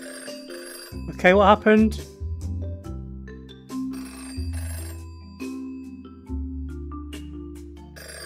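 Telephone ringing in the VR game Virtual Virtual Reality, a short warbling electronic ring burst near the start over a low synth music bed, followed by someone speaking briefly.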